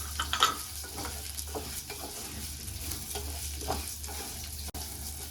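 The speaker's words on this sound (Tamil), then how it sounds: "இப்போ 1 டம்ளர் அரிசி அப்படியே டைரெக்டாக போட்டு வறுக்கலாங்க." Rice and onion dry-roasting together in a pan for Tamil kadamba pongal, a continuous close sizzle with soft stirring scrapes and rustles, steady and moderately quiet, no voices.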